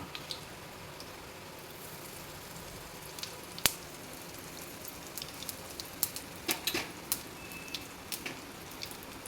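Dried red chillies, mustard seeds, cumin, urad dal, a pinch of asafoetida and curry leaves sizzle in hot oil as a tempering for a ground roti pachadi chutney: a steady close hiss broken by sharp scattered pops, with no talking.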